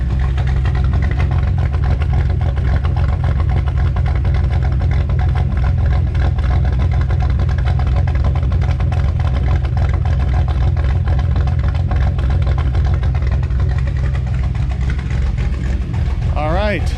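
Exhaust note of an idling Chevy S10 engine with a Comp Cam 280 duration camshaft, a loud, steady, lumpy rumble close by that lasts throughout, with a brief rising whine near the end.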